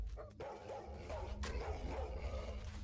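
Dogs barking in the video game Stalker Online, a busy cluster of yips and barks over a low rumbling game backdrop, fairly close and continuous throughout.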